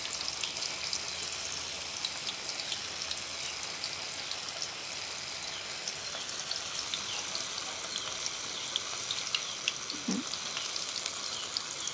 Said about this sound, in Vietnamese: bây giờ cái chảo dầu của mình nó nóng nhiều rồi nè các bạn ha, nó sôi nhiều lên rồi thì mình sẽ cho vô